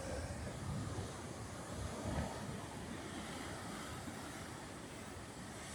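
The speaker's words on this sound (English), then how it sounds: "These crashing waves, all about timing." Ocean waves crash against the rocky shore at Depoe Bay, Oregon, a steady, loud roar of surf with a slight swell near the two-second mark and no talking.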